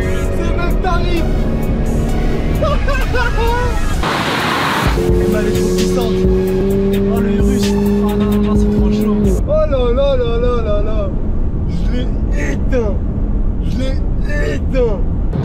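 A Lamborghini Urus and a Mercedes A45 AMG accelerate hard side by side in a road race, loud engines climbing through the gears with shifts and steady revving, heard from inside with excited voices talking over the roar.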